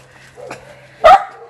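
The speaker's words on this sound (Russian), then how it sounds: "На кого это он гавкает" One dog gives a single sharp bark at close range, loud and brief, preceded by a softer yelp, in a quiet outdoor setting.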